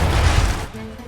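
Cannon and musket fire in Assassin's Creed 3, a dense rumbling burst of gunfire and booms that fades into a quieter tail after about half a second.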